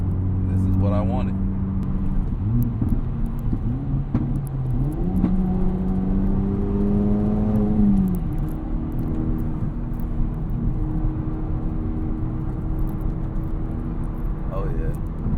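An Acura Integra Type S fitted with a Milltek catback exhaust drives by, its engine note rising and falling through revs in a steady, close drone, with someone talking over it.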